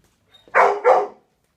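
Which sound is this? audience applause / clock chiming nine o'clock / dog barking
dog barking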